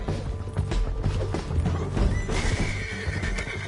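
A horse whinnies loudly over galloping hooves and clattering impacts in Red Dead Redemption 2, a busy game scene with the neigh rising near the end.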